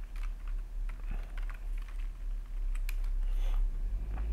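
Keys clatter on a computer keyboard as code is written for a programming exercise that searches for a value in an array, with irregular clicks over a steady low hum and no talk.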